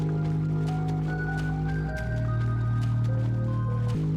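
Water drips and squishes steadily in an empty video game mall map called Void Mall, a continuous wet trickle over a low droning hum, with no talk.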